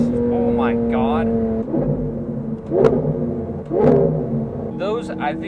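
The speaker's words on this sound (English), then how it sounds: "Those, I think, might be the most satisfying downshifts of any car I've ever driven." A Lamborghini Aventador V12 barks through sharp downshifts, with loud rev blips and crackling pops rising out of a steady engine drone, while a person talks and exclaims over the top.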